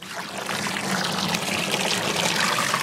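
Water pours steadily into a large dog water container holding around 8 to 10 gallons, a close, continuous splashing rush that builds slightly in level and stays even to the end.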